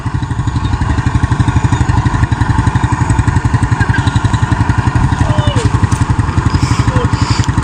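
A tricycle's motorcycle engine chugs steadily and close by while crossing floodwater, a fast even pulse running throughout with faint voices underneath.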